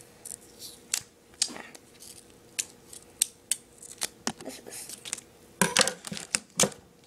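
Scissors snipping through paper, a series of sharp, close clicks and cuts at irregular intervals, clustering into quicker bursts toward the end, with no talking.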